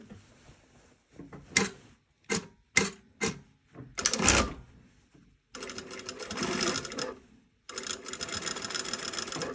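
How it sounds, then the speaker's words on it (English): A sewing machine stitches bias tape onto a garment neckline. A few short clicks and thumps come first, then two steady, close runs of rapid stitching separated by a brief pause. "I'm going to sew on the bias tape, but very close to this fold"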